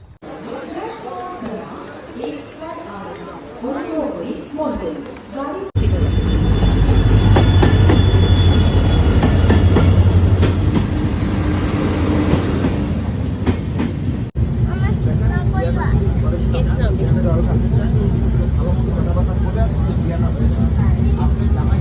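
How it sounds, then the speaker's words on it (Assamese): A train at Duliajan railway station at night, beginning with voices and ambient noise, then a loud rolling roar with wheels squealing and clattering as it passes close by, with crowd chatter continuing underneath. "আমি দুলীয়াজান ষ্টেচনত ট্ৰেইনলৈ বুলি ৰৈছিলোহি।"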